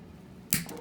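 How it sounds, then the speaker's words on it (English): Wire cutters snip copper wire for a triangle earring, giving one crisp, sharp click against a quiet background. "I'm going to snip it a little bit more"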